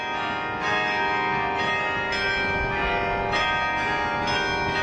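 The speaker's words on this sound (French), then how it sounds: "toutes les cloches fonctionnent à la volée" Large bells of the Cathedral of St. Michael and St. Gudula, all swinging in full peal, ring continuously and loudly, overlapping strikes ringing out in a dense, resonant wash with steady rhythmic accents.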